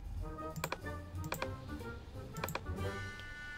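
Computer keyboard keys and mouse buttons click in quick, uneven bursts while someone works at a desk in animation software. The clicks sound close and crisp, with no talking.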